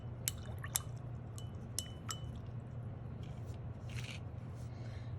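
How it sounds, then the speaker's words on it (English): Paintbrush being rinsed in a water container, making faint, close clinks and taps against the container and light splashing drips over a low background hum, with no talk. "So I need to wash my brush out."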